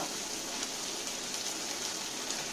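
Chopped onion, green chilli and spring onion fry in hot oil over tempered cumin seeds, giving a steady, dense, rain-like sizzle that holds evenly throughout with no talking.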